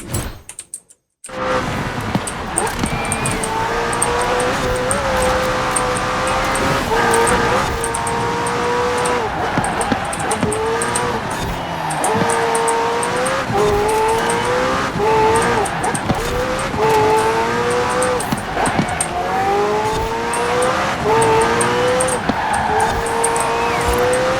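Racing car engine in Forza Horizon 4, loud and sustained with repeated rising revs and gear changes after a brief silent start, whining continuously throughout.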